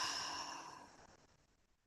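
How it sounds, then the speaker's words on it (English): A long exhale pushed out through the mouth in a mindfulness breathing exercise, a steady breathy whoosh that starts fairly strong and fades away over about two seconds, heard alone without talk. "let it out through your mouth with a whoosh sound for 8 seconds"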